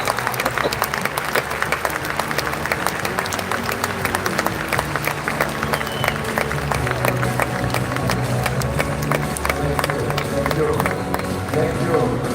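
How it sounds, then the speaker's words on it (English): An audience at the Rotary International convention closing ceremony in Taipei applauds in a long, steady, dense round of clapping that fills the hall without letting up. "let us give another round of applause for the ICC and"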